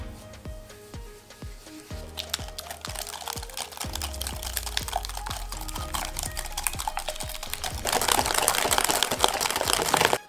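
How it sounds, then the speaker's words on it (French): Eggs and sugar whisked together in a bowl for a lemon cream filling, a rapid run of close, sharp clicks and taps that keeps a steady rhythm and grows denser and louder toward the end. "Je commence par prendre mes œufs dans lesquels j'y ajoute le sucre. Et je viens mélanger jusqu'à ce que les œufs blanchissent."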